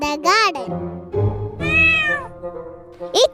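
On a school stage, a child imitates a cat with several drawn-out, rising and falling meows, mixed with other children's voices speaking their lines.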